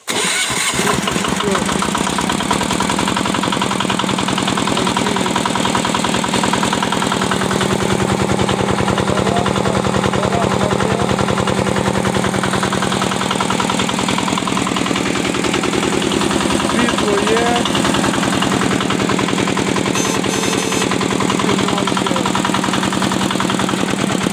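A small single-cylinder engine on a walk-behind tractor converted into a mini tractor runs steadily and loudly throughout, with a rough, rapid chugging rhythm close by and no talking.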